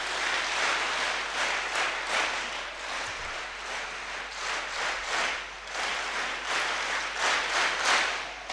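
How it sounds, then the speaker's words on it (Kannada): Crowd of children at a Siddhaganga ashram gathering clapping in repeated loud bursts, a dense wash of many hands with rhythmic swells throughout, fairly close. "तीन बार तालियां बजाएंगे।"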